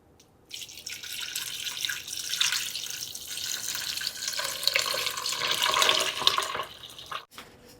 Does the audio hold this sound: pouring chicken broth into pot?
yes